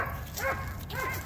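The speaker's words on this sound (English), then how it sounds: "Cute little hound dog." A hound dog at a dog park giving two short yelping barks, each with a rising-then-falling whine, close by over outdoor background noise; a voice is faintly heard.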